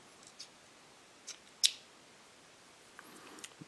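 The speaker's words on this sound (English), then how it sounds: "I'm just going to trim up this wanky end" Scissors snip a fly-tying material end at a vise, one sharp close cut standing out between a few fainter snips and light handling rustle in a quiet room.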